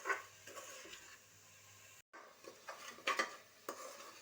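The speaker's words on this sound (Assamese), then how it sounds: "ধুনীয়াকৈ লৰাই ভাজি থাকিব লাগিব।" Quiet, repeated scraping of a spoon stirring through a sticky mixture of coconut and sugar in a pan, with a faint sizzle underneath.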